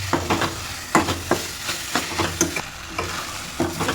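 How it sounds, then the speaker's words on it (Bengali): A spoon scrapes and stirs a chicken mixture with pizza sauce in a hot kadai, regular clattering strokes about twice a second over a soft sizzling frying bed, no voices. "খুব ভালো করে মিক্স করে নেবো"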